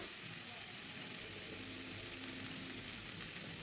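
Washed jackfruit pieces cooking with small shrimp sizzle softly in a pan while being stirred, a faint, continuous crackle and hiss with no voices over it.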